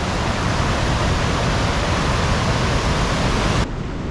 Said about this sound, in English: One cascading waterfall after the next.